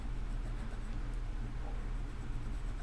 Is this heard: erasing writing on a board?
yes